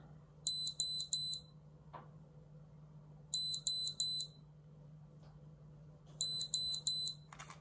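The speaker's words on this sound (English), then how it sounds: "you need to wait for three sets of beeps five times" A KWA VM4 Ronin T6 airsoft rifle unit gives high electronic beeps in three bursts of three, evenly spaced, over a low steady hum, with a faint click between sets.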